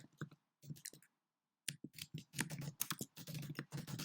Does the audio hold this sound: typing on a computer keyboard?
yes